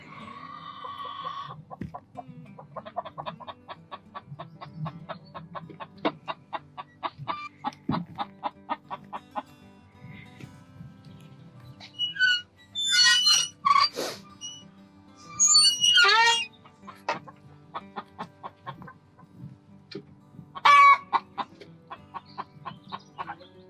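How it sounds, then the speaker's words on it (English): A light Sussex hen clucks in a steady run of repeated calls, later breaking into louder, higher squawking bursts, with other hens nearby in a backyard coop. "The one making the noise is the light Sussex"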